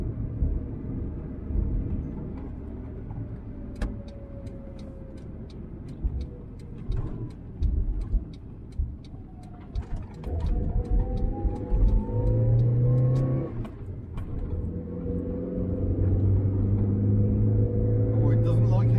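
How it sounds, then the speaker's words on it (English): A Triumph Mayflower with a four-cylinder engine driving uphill, a steady engine drone and rumble from inside the car that rises in pitch as it strains and revs, with someone talking over it. "because it's a 4-cylinder engine, it sounds smoother than the 3-cylinder in a Perodua Nipper"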